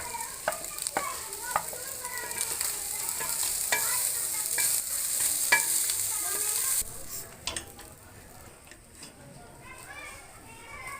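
Rice goes into a pan with fried egg pieces and is stir-fried. A bright, steady sizzle carries sharp spatula scrapes and taps, then the frying drops away and leaves lighter clinks and quieter sizzling.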